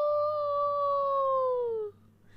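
A dog gives one long, clear, steady howl at night that slowly falls in pitch and fades out after about two seconds, over a low background hum.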